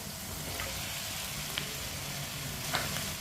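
Potatoes fry with capsicum in a pan, giving off a steady, soft sizzle of oil. A couple of faint clicks from the pan sound through the hiss.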